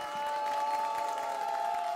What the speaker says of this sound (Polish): Duże brawa, proszę.